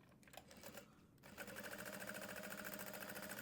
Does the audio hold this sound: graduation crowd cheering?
no